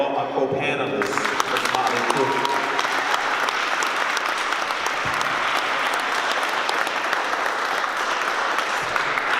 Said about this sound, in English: And continue that round of applause for all my co-panelists.